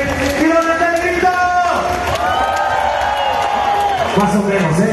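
A concert crowd at a show at a fair shouts and cheers loudly and continuously, with voices rising in long sustained yells over a dense roar.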